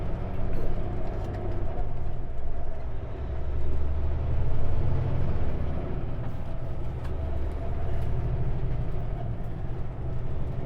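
A semi truck hauling straw bales labors up a mountain pass, its engine a deep steady drone under continuous road and wind noise, close and fairly loud throughout.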